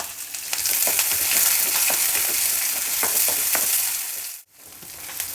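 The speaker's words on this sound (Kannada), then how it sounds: "ಇದನ್ನು ಈರುಳ್ಳಿ ಎಲ್ಲ ತುಂಬ ಮೆತ್ತಗೆ ಫ್ರೈ ಮಾಡಬೇಕು ಅಂತ ಏನಿಲ್ಲ, ಸ್ವಲ್ಪ ಹುರಿದ್ರೆ ಸಾಕು" Onion, garlic and curry leaves fry in hot oil as a tempering for a traditional greens dish, giving off a steady close sizzle broken by the scrape and clatter of stirring. A sudden brief dip near the end.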